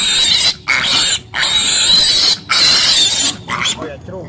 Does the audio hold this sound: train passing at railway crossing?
no